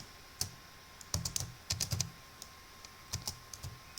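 Keys on a computer keyboard are tapped in short irregular bursts of crisp clicks, close and clear, with brief pauses between groups and no talking.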